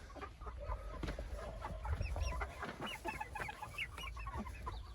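Chickens clucking and chattering in a hobby coop during cleaning day, steady overlapping clucks and short calls from several birds, moderately close, with no talk.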